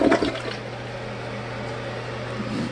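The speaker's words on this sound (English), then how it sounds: "Flush the toilet." A bathroom toilet flushes nearby with a continuous rush of water over a low steady hum, holding constant throughout.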